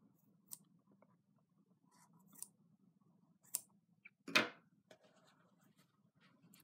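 Scissors cut through yarn wraps held against the edge of a hardback book while making scarf fringe: one sharp, close snip stands out, with a few fainter clicks scattered over a quiet background.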